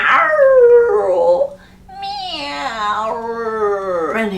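A human voice imitates a sad old cat meowing, two long drawn-out wavering meows with a short pause between them, loud and close.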